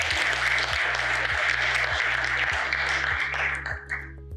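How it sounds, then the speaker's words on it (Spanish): Audience applause for a bishop at a forum on secularism and religious freedom, a dense clapping wash over a low rhythmic hum, tapering off near the end. "Un aplauso, por favor"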